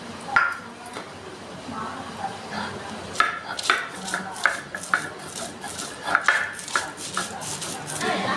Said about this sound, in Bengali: আমি যে নারকেলটা ভেজে রেখেছি সেই নারকেলটা এখন আমি বেটে নিচ্ছি।